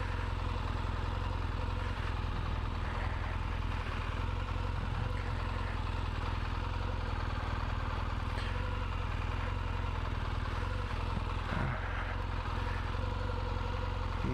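A motorcycle engine idles steadily at low revs while the rider feathers the clutch through a slow U-turn in mud, slush and ruts, a constant close rumble throughout with faint clatter.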